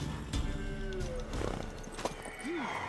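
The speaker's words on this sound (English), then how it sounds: "Worthy of the best horse. The mare is yours." In The Witcher 3 video game, a horse gives a short neigh with scattered hoof clops, faint and mixed under game sounds and brief voices.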